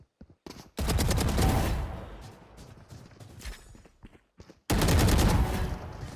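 First-person shooter video game gunfire: two loud bursts of rapid automatic shots, the first lasting about a second and a half, a quieter stretch with scattered shots between, then a second full burst near the end.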